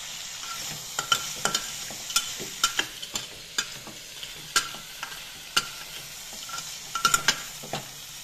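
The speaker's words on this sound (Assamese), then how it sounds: "অলপ ভাজি লওঁ।" Beaten eggs with onion and chili fry in a pan under a soft sizzle. A utensil scrapes and clinks against the pan in irregular, repeated strokes.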